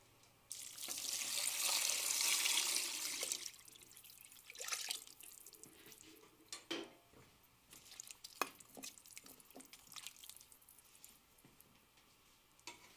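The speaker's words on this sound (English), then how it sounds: "add enough water to cover all of the ingredients by at least 2 to 3 inches" Water gushes into a stock pot over roasted vegetables for demi-glace stock, a loud steady rushing stream for a few seconds that then stops, followed by faint drips, clinks and quiet kitchen handling.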